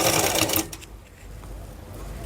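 A sewing machine running a stitch close to the neckline of a garment, a fast whirring burst for about half a second before it stops, followed by quiet room tone.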